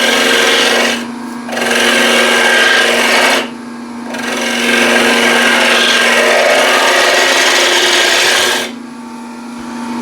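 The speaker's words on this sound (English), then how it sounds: "With the spindle gouge, I'll set that in." Spindle gouge cutting wood on a lathe while shaping the foot of a turned trinket box, a steady loud rasping scrape in long passes broken by brief pauses, with no talking.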